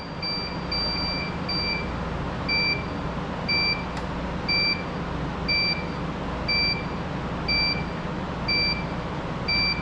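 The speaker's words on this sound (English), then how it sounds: "Here, beeping." A Ney Centurion Q50 device showing an error gives off a steady series of short, high electronic beeps, spaced evenly about once a second, over a low background hum.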